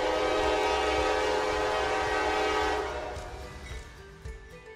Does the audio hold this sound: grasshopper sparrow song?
no